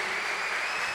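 Audience applause fills a church during a Canção Nova celebration service: dense, steady clapping from a crowd, loud and continuous throughout the short stretch with no voices over it.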